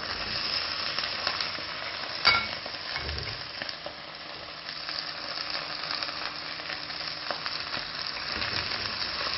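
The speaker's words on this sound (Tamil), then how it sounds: "வெங்காயத்தை போட்டுக்கலாம்." Four medium onions frying in a pan for kadai chicken, a steady close hiss and crackle of oil with a sharp utensil clink early on and soft stirring scrapes throughout, no voices.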